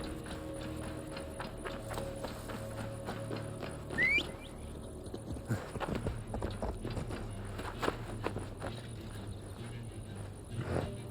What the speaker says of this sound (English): So I can hear the horse when he's running by itself